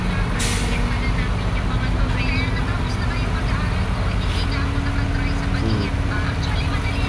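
A truck at a construction pour on a Philippine street idles with a low rumble, and a sharp hiss of air brakes bursts out near the start. Passing traffic fills the background and voices talk faintly.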